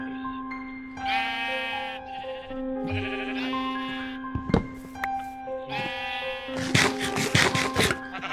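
Several sheep in a video game bleat in turn, drawn-out wavering calls overlapping one another, close and loud, with a sharp click and rustling bursts near the end.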